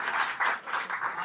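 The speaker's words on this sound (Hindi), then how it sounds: "आप तालियां बजाए जाएं" Audience at a mushaira poetry recital claps in a brief burst, a few uneven waves of close, moderately loud applause.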